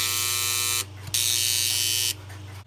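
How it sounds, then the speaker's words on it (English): Two test buzzers on a 1A2 key telephone intercom system, fed 10 volts AC, giving a harsh electric buzz in two bursts separated by a short gap, fairly close and alone over a faint mains hum. "I have 2 buzzers for test, extension 2 and extension 0. And I'm switching 10 volts AC to those 2 buzzers."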